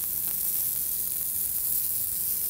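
A pork sausage patty sizzles on a hot griddle with a steady, hissing crackle that holds evenly throughout.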